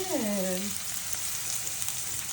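Cut chicken pieces hit a hot pan for a Chinese-style chicken broccoli dish, raising a steady, fairly loud oil sizzle that carries on alone after a brief voice at the start.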